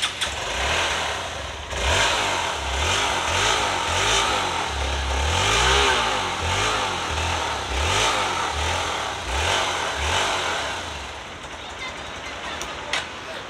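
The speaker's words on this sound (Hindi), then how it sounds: "तो दोस्तों आपने इसका भी एग्जॉस्ट साउंड देख लिया" A Suzuki V-Strom SX 250 or Hero Xpulse 200 4V motorcycle engine idles with a throaty exhaust, then revs up and down repeatedly in rising and falling bursts, loud and close.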